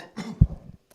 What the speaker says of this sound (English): I was trying to hold on and get that out before I coughed, but I couldn't do it